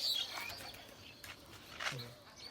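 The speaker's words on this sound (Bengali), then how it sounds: "এই যে কবুতর।" Soft pigeon coos and a few chirps at close range on a rooftop, fairly quiet against light background noise.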